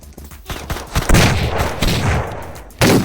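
Rapid video game gunfight fire, bursts of close, loud gunshots in quick fusillades, dense and overlapping, with a final sharp burst at the end.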